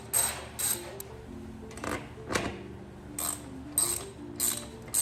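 A hand ratchet works on a bolt on a car's air box, quick clicking bursts repeated in short strokes with brief pauses between, close and fairly quiet, with no talking.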